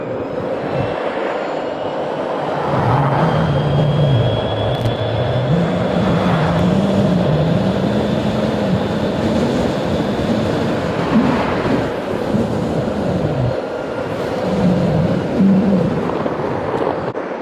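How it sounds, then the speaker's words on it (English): A Propel Sigma electric skateboard in gear 4 on stock 88mm wheels runs at top speed up a slight hill, giving a loud continuous rolling roar with wind and a rising, falling motor whine, close up, no talking. "Top speed test on the Propel Sigma"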